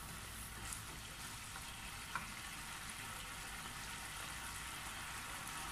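Pork sizzling and frying in a hot pan while being stirred, a steady dense crackle holding close and loud throughout with a few brief clinks.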